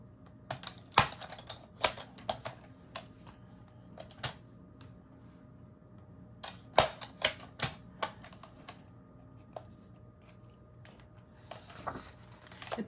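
Paper being trimmed for a handmade mini album with a sliding paper trimmer, a run of sharp, close clicks and snaps spaced irregularly over a steady faint room hum, with no talking.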